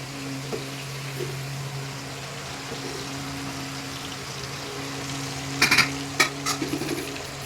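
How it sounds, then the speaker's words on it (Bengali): Potatoes fry in a pan during festive home cooking for a puja feast, giving a steady, soft sizzle under a constant low hum, with a few sharp utensil clatters near the end. "আলু ভাজা হচ্ছে"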